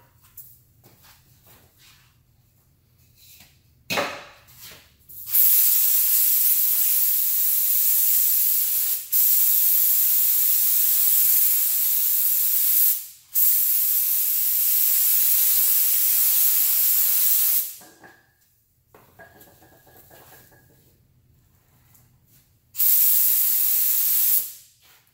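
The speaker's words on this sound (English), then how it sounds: "I'm going to go ahead and spray this epoxy." A spray gun applies epoxy primer during rear-end collision repair on a 2015 Chrysler Town & Country, giving long, loud, steady hissing passes separated by short quiet pauses and a few light clicks.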